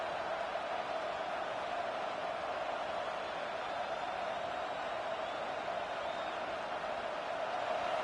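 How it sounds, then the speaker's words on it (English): A football stadium crowd at a Gators vs LSU game roars as a steady, distant wash of noise that holds level throughout without distinct peaks. "the crowd coming to life here, trying to help this defense down in the red zone"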